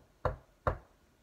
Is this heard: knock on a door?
yes